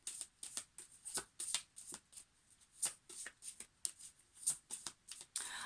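Alice in Wonderland oracle cards riffled and shuffled in a series of quick, crisp bursts, fairly close and steady, with no talking.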